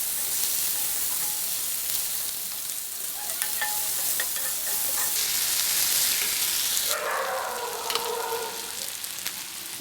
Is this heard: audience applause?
no